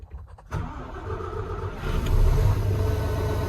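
Turbocharged engine on a 380 machine cranking briefly, then catching and settling into a loud, close rumbling idle that builds slightly toward the end.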